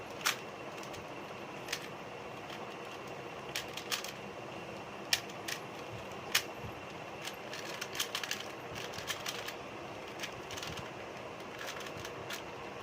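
A 3x3 Rubik's Cube is twisted by hand during a shuffle, giving soft, quick plastic clicks and clacks scattered irregularly over a faint background hiss.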